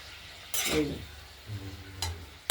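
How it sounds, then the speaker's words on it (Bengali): Chopped onion greens fry in mustard oil in a wok as a utensil stirs them: a few quick scraping, clinking strokes over a soft, low sizzle, close and fairly quiet, with no talking. "ঢাকনাটা খুলে আরেকবার নেড়ে দিলাম"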